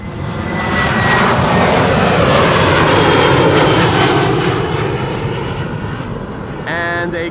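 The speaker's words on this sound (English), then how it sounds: "And a KLM 737-700 Billund just now taking off." KLM Boeing 737-700 jet taking off from the Polderbaan runway at Amsterdam Schiphol, a loud, sustained engine roar that swells and then slowly fades, with no talk over it.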